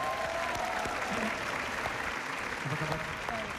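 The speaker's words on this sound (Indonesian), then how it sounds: "Berikan tepuk tangan buat dia" Studio audience applause on the dating show Take Me Out Indonesia welcoming a new contestant, a fairly quiet wash of clapping over a music bed, with brief voices underneath.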